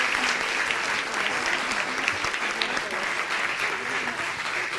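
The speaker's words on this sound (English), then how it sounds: "Could you give Susan a big round of applause?" A conference audience at the OECD Forum 2017 gives a speaker a big round of applause, a sustained, even roar of clapping from a large crowd with faint voices mixed in.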